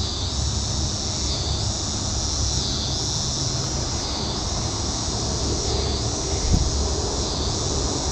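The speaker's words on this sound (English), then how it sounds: "Cicadas are going hammer." Cicadas drone loudly and continuously outdoors, a dense high-pitched buzzing chorus with slow pulsing swells, steady throughout with no voices.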